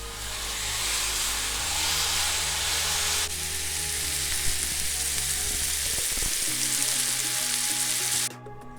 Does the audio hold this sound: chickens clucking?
no